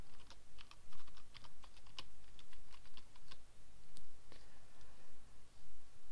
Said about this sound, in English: So type in our subdomain